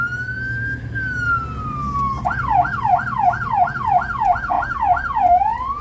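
A fire engine siren wails in traffic, starting with a long steady tone that drops before switching to a fast, repeating yelp, loud and close, with a low engine rumble beneath.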